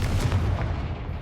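A Confringo fire spell blast in the Hogwarts Legacy video game, a loud, dense booming burst with rumbling low end that fills the whole moment without fading.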